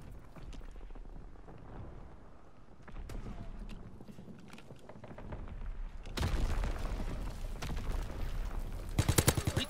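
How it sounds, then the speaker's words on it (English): Rapid bursts of aircraft machine-gun fire from a WW2 video game strafing run: a dense rumble of battle noise builds, then a loud, sharp volley of close gunfire breaks in and ends in a quick rattle of shots. "Fighter aircraft ready for strafing run."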